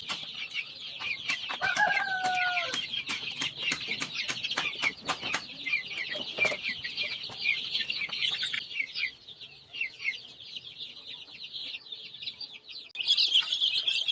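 Sixteen-day-old vaccinated Rhode Island Red chicks peep and chirp steadily in a dense, high-pitched chorus, with a few louder clucking calls early on and scattered sharp taps and knocks throughout.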